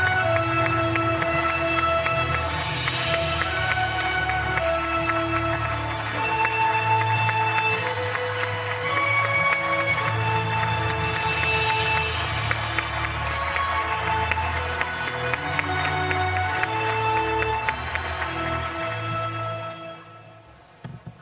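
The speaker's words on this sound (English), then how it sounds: "Please welcome him with a warm round of applause." An audience at the opening session of the 56th Annual Meeting of the ADB Board of Governors claps to welcome the President of Korea. The applause is soft and steady under loud sustained music that fades out near the end.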